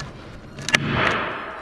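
A staple gun firing once to fix stretched canvas onto a wooden stretcher frame, a single sharp snap followed by a short rustle of handling.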